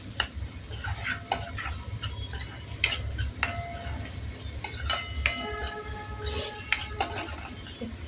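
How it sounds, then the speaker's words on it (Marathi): A spoon scrapes and clinks against a pan as food is stir-fried in ghee and butter, with irregular metallic taps over a soft sizzle, close and moderately quiet. "हे सगळं अगदी तुपात आणि बटरमध्ये छान फ्राय करून घ्यायचं आपल्याला"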